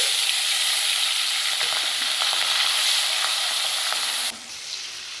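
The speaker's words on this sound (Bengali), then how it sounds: "এবার মাছগুলো ভেজে নিচ্ছি।" Fish pieces frying in hot oil, a loud, bright, continuous sizzle close up with faint occasional crackles, dropping in intensity near the end.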